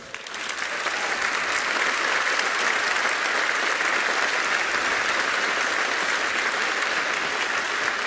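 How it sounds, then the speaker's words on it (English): A large audience at an EDHEC Executive Education celebration claps steadily and loudly, dense applause building quickly and holding without a break for the full stretch. "please applaud our EDHEC scholars"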